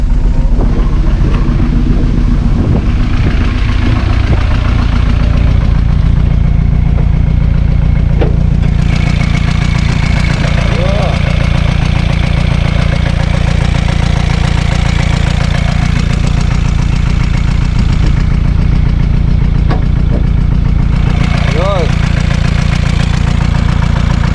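A Volkswagen T4 van engine, suspected of a turbo fault, idles steadily and loudly throughout, a constant low rumble with faint knocking and no voices.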